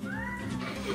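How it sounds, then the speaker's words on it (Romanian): A cat gives one drawn-out, rising then falling meow, close and clear, with a faint voice in the background. "Pisica. Pisica. Pisica."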